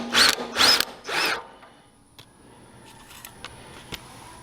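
A power tool on a Troy-Bilt Super Bronco tiller loosens the 7/8-inch transmission pulley nut in three short, loud, close bursts, followed by quiet shop background with faint clicks.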